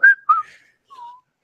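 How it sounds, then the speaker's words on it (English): A girl whistles a few short, clear notes: two quick chirps followed after a pause by one longer, lower tone, close and alone. "Yeah, you can whistle. We know you can whistle."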